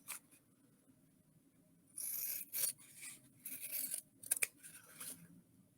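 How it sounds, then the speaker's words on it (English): Scissors snip through fabric pieces for a table runner in a few quiet, close bursts of crisp cutting with short pauses between, in an otherwise hushed room. "I will take some scissors and I will cut both pieces"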